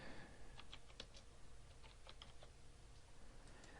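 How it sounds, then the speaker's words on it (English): Someone types a search topic on a computer keyboard, producing a quick run of light, close key clicks at an uneven rhythm, very faint and with no talk. "you can type in a topic"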